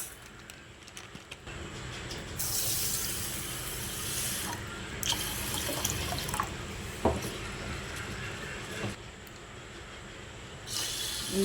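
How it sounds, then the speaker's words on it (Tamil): Sago pearls, about a quarter kilo, being washed in water, with steady splashing, sloshing and swirling of liquid up close, occasional clinks and pours, and no talking. "இதை வந்து நம்ம கொட்டி ஒரு 2 டைம் வந்து நல்லா வாஷ் பண்ணி எடுத்துக்கலாம்"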